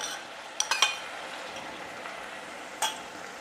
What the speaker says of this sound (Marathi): आता आपल्याला तेलावरती साधारण 2 ते 3 मिनिटं हा मिरचीचा ठेचा चांगला परतून घ्यायचा आहे